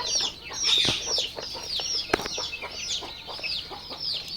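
Parent layer chickens clucking close by on a poultry farm, a busy overlapping chatter of short calls with an occasional sharp knock.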